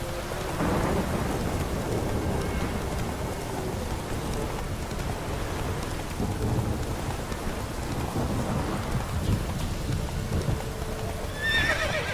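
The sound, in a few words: thunder and lightning strike in the rain, from video game The Witcher 3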